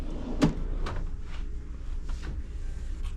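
A vanity drawer in a Disney Dream deck 10 deluxe family stateroom slides open with a few soft knocks and clunks, over a low, constant cabin hum.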